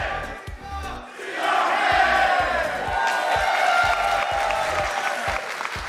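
Small but loud crowd at the Rocket League World Championship esports group stage, cheering and shouting a rhythmic chant with regular beats, sustained and close throughout.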